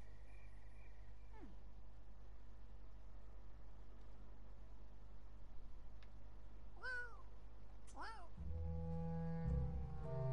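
A Sims 4 cat gives a few sparse meows, one early and two close together later, over a steady game ambience and low background hum.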